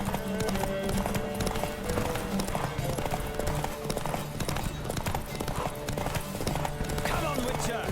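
A racing horse gallops in The Witcher 3, its hooves drumming a fast, continuous clip-clop up close, with occasional snorts or whinnies and voices talking over the hoofbeats.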